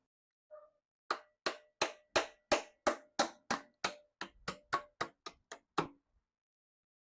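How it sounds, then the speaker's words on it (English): A hammer taps a Toyota 4AGE 20-valve engine part into place about fifteen times in a steady rhythm, sharp ringing metal strikes close by, preceded by one faint light tap. "So we're literally just going to tap this in place here. Got a little bigger hammer."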